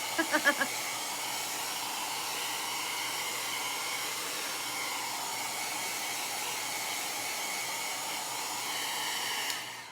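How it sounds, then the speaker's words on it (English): A small heat-only blow dryer runs in a steady, even whir and hiss, starting after a few quick clicks and continuing without change. "Maybe I'll just start using this little blow dryer."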